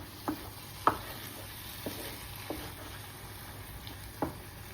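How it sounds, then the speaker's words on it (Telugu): Pumpkin halwa being stirred in a pan, a few soft scraping strokes and knocks of the spoon over a low steady sizzle, fairly quiet with no talk. "మంచిగా తిప్పుతుంది చూడండి, ఎంత బాగా తిప్పుతుందో."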